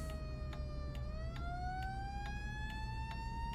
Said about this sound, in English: So it is 2 to change the tone of your sirens.